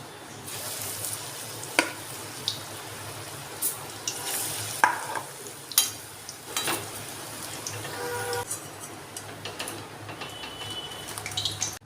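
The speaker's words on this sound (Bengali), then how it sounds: "কোপ্তাগুলো এই ব্রাউন কালারের করে ভেজে তুলে নিতে হবে" Pumpkin koftas fry in hot oil in a pan, giving a soft continuous sizzle broken by intermittent stirring and scraping clinks, with no voices.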